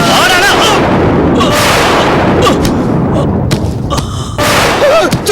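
Gunfire in a Tamil television drama scene: loud, dense booming blasts with sharp cracks that fill the whole stretch, with no quiet gaps between them.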